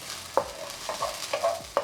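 Onion and green onion fry in a pan for an Indian egg dish, a soft sizzle punctuated by several sharp utensil clinks and scrapes against the pan.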